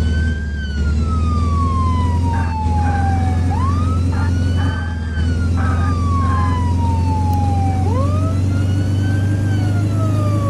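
An emergency vehicle siren from the Flashing Lights game wails loud and close, sweeping slowly up and down in repeated cycles over a steady low engine drone, with no talk.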